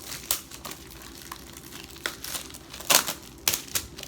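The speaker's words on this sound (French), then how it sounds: "Si je le déballe pour vous montrer l'intérieur" Plastic film crinkles as a Blu-ray movie package is unwrapped, irregular sharp crackles and rustles in bursts, close up, with a low steady background and no talking.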